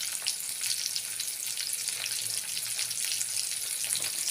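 Fish frying in oil over a high flame, a dense, even crackling sizzle heard up close, continuous and with no talking.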